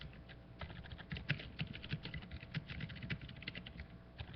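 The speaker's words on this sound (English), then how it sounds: "I'm typing the questions." Rapid clicking of a computer keyboard as someone types questions during a live weather chat stream, keystrokes coming in quick irregular bursts at close range with no talking.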